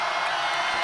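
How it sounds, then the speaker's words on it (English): A volleyball crowd in Carver Gym screams and cheers as one steady, sustained roar that fills the whole moment. "crowd is screaming right now"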